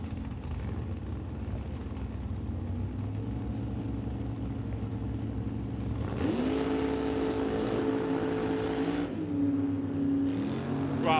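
Drag race cars, a Chevy II and a Mustang, roar down the strip toward the finish line at a Summit ET series event, a sustained engine drone that jumps in pitch and intensity partway through.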